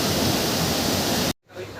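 The Coban Talon waterfall roars as a dense, loud, steady rush that cuts off abruptly near the end, leaving quieter ambience.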